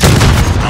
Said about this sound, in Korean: 기절 수류탄.